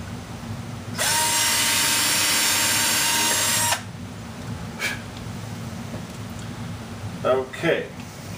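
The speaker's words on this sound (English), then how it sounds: "take yourself a 3/32 drill and a hand drill and drill these holes out" A hand drill with a 3/32-inch bit bores screw holes while building a foxhole radio, giving a loud, steady whirring buzz that runs for about three seconds and then stops, followed by quieter handling noises.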